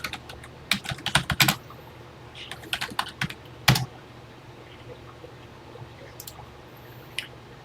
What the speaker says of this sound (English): I want to try to type these in exactly as they're written in the book for posterity